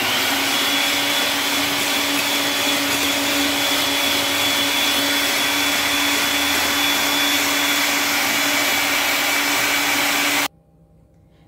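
An electric mixer beats apple cake batter with milk and a spoonful of vinegar, a steady, close motor whine holding for about ten seconds before it cuts off abruptly.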